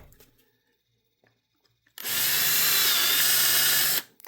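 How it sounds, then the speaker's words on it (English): A power drill whirs loudly for about two seconds as it bores through wood, starting and stopping abruptly after quiet handling noises. "I may need to run the drill through it again"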